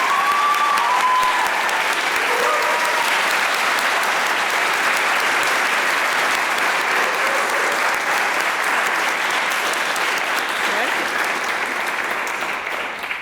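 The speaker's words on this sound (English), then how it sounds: "let's all give each other a round of applause" A graduate cohort at a physician assistant white coat ceremony applauds together in a long, dense, steady round of clapping that fills the hall and tapers slightly at the end.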